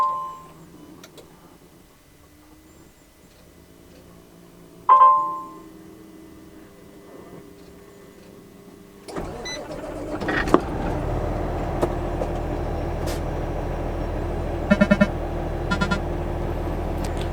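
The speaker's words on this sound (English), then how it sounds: "Lots of bleeps and bloops in the new truck." A 2023 Peterbilt 579 NextGen truck's digital dash gives a few short electronic beeps on startup, then the diesel engine turns over and settles into a steady idle under further sparse chimes and ticks.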